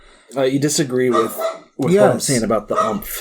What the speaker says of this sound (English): I know you guys can hear my dog barking back there